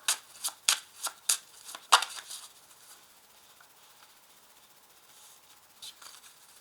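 A 32-card deck being shuffled by hand, several quick crisp riffling bursts close up in the first two seconds, then near silence with one faint shuffle near the end.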